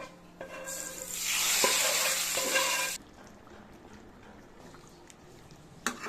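Vegetables with sweet pumpkin, green chillies and two dried red chillies hit hot oil in a pan, a loud burst of sizzling and frying for about two seconds that drops away to a quiet simmer, with a few faint knocks.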